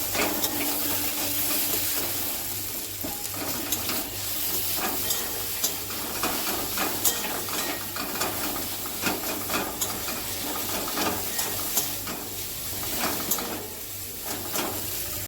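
A potato dish fries in ghee while being stirred in a pan, giving a soft steady sizzle with scattered scraping taps from the stirring throughout.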